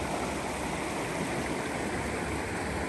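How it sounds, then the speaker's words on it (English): Fast-flowing water of the East Fork of the Carson River just south of Markleeville makes a steady, dense rushing roar, loud and close and unchanging throughout, with no voices. "And a little faster water up here."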